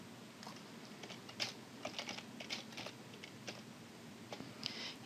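Keys clatter on a computer keyboard as an IP address is typed in, a quiet, close run of irregular clicks in short bursts.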